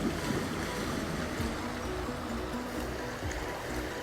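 A creek flows with a dense, steady rush of water close by, broad and even throughout, with light wind noise mixed in.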